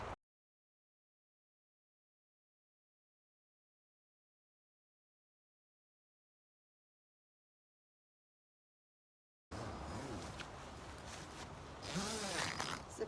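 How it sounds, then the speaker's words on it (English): A zipper on a homemade hot tent is pulled in a few quick, scratchy strokes after a long stretch of silence, close and fairly loud. "Zipper in full effect."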